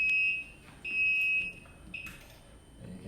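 A fire alarm system panel sounds its alarm in three loud, high electronic beeps, each held about half a second, separated by quieter gaps with faint background noise.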